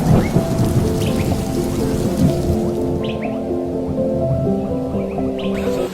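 Steady, loud rain and rushing water roar continuously at a hidden waterfall on a monsoon trek near Mumbai, with no talking over it.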